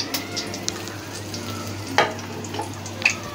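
Cumin seeds and garam masala sizzle in hot oil while cooking aloo palak, a steady close crackle broken by sharp pops and a louder burst near the middle as the spices hit the pan.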